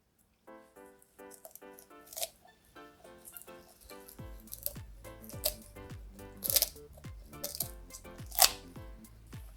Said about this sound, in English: I'm going to cut out the spine.